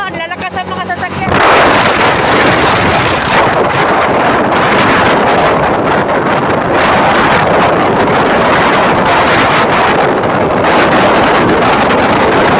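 Loud, fast vehicles rush past close by on a road, a sustained roaring wash of engine and tire noise buffeted by heavy wind on the microphone, swelling and fading over several seconds.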